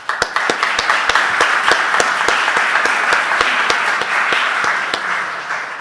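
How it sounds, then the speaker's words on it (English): An audience at a Stanford brain symposium breaks into a round of applause, a dense and loud burst of many hands clapping that holds steady for several seconds and then eases slightly. "I really want to give a big round of applause for R for making this possible."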